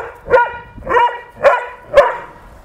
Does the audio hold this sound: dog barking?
yes